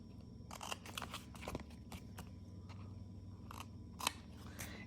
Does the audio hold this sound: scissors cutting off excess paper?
yes